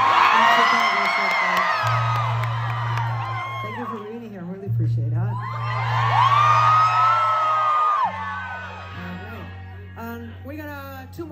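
A concert crowd at a rock show on a North America tour whoops and cheers in loud swelling waves over a low sustained tone, while someone speaks from the stage.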